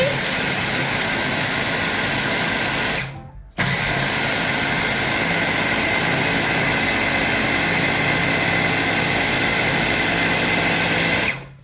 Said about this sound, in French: Voilà, regardez, nous allons écraser les biscuits.